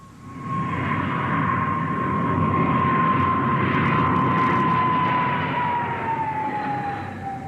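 A propeller airplane approaching the runway at Cranwell, heard as a steady droning engine hum with a sustained tone that swells as it nears and then slowly falls in pitch, with no talking.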